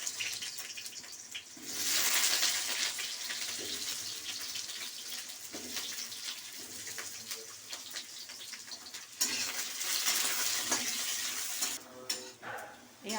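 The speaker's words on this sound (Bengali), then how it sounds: "আলুগুলো ভেজে নিই।" Potatoes frying in oil give a strong, rushing sizzle that surges loud in bursts, with scraping and stirring in between, close up and without talk.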